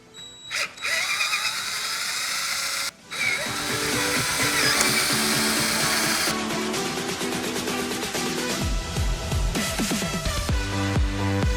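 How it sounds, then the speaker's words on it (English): A power drill whines loudly and steadily, drilling a fan-mounting hole in a custom water-cooled PC build, with a brief pause early on and a shift in pitch as it bores through material up close. "I'm gonna have to drill my own hole."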